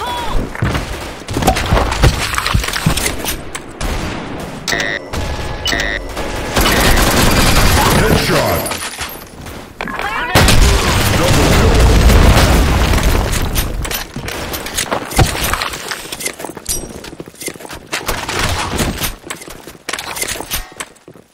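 A grenade explosion in a shooter video game, a heavy boom rising out of dense, continuous gunfire and battle noise that fills the whole stretch at high volume, with shouted voices mixed in.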